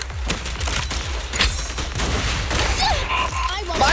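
Billy's guns firing in the video game Zenless Zone Zero, a dense run of rapid shots and bursts filling the clip at steady loudness, mixed with game effects and a brief voiced bit.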